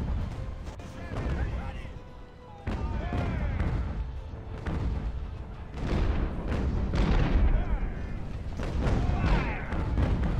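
Naval cannons trade counter-battery fire in the age-of-sail game Ultimate Admiral: Age of Sail, with repeated heavy booms and rumbling broadside thuds spread across the stretch, loud and close, with voice-like sounds mixed in.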